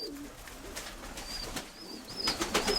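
Pigeons make soft cooing and chirping calls close by, with brief rustles and wing flaps that pick up toward the end, over faint outdoor background noise.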